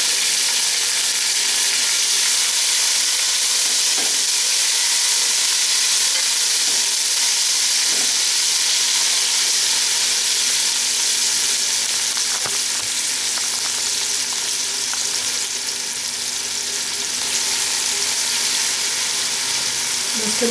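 Steady loud sizzling and crackling of onions and tomatoes frying in a hot pan, continuous throughout with faint occasional stirring.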